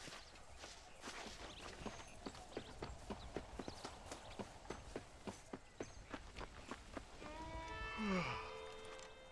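Horse hooves in the video game Red Dead Redemption clip-clop at a steady trotting rhythm, fairly close, with a faint tonal call near the end.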